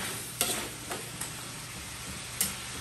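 Shrimp and chicken being stirred in a pan as they cook for ginataang bulanglang, giving a few soft scraping strokes over a low sizzle, quiet and close with no talking.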